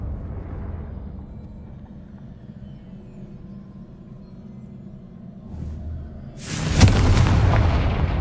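Confringo blasting spell in Hogwarts Legacy: after several seconds of low rumbling ambience, a single loud, close explosion bursts out and rolls into a sustained booming rumble.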